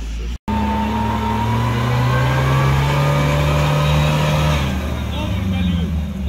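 A UAZ off-road vehicle labors in mud with its clutch burning, the engine held at a loud, steady, strained rev that climbs slightly and then eases off, with people talking over it.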